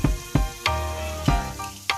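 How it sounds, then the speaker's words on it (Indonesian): Ground spice paste sizzles in hot oil in a wok, a steady close frying hiss broken by several sharp metallic knocks of a spatula against the pan, with no voices. "tumis hingga harum"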